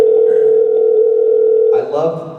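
Telephone dial tone heard as a call is placed, a loud, steady, unbroken hum that runs for nearly two seconds before breaking off into a brief burst of other line noise at the end.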